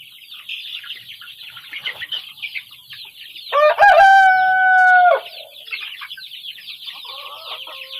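Chickens and chicks calling close by, a chatter of high peeping and clucking throughout, with a loud rooster crow in the middle that rises and holds for over a second before the peeping resumes.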